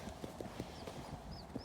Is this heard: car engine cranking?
no